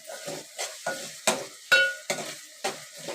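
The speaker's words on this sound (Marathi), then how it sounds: "परतून घ्यायची तेलामध्ये ती पेस्ट" Ginger-garlic paste sautéed in oil for a chicken dish, with rhythmic stirring strokes every half second over a steady close sizzle, no voices.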